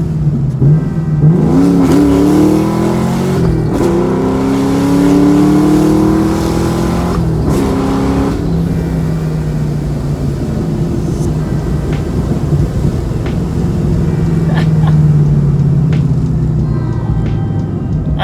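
A supercharged New Edge 2V Ford Mustang engine revs loud and close, its pitch climbing and falling through several rising pulls, then settling into a rumbling idle with a whine that fades out.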